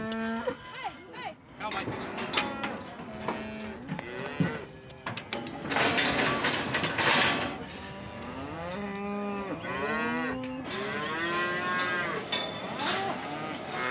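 Cattle on a remote Australian outback station moo repeatedly, young bulls and older cows calling over one another, some long and drawn out, close and fairly loud, with a busy herd in the background.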